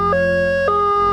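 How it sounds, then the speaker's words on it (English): A brewery ammonia alarm sounds as a loud electronic two-tone signal that alternates between high and low pitches in a steady repeating pattern, with no voices. "ammonia alarm"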